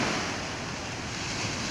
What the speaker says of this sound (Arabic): سمعوا الامواج